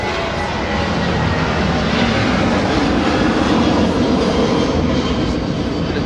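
A fixed-wing aircraft passing overhead outdoors at a busy electric-vehicle show, a loud, steady broadband engine roar that holds level throughout without fading.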